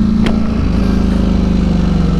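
A Ducati Streetfighter V4 SP engine, loud and close, holds a steady low droning throb after a brief sharp burst near the start, with no talk.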